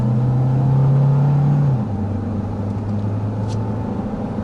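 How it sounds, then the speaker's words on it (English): Engine of a 2026 Kia Carnival hybrid heard from inside the cabin, a steady low hum that holds for a moment and then drops in pitch and settles into a quieter, refined drone. "I really like that this engine is quite quiet overall"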